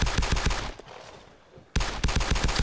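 Rapid bursts of gunfire in the video game DayZ Epoch, loud and close, with a brief lull in the middle before the shooting resumes just as heavily.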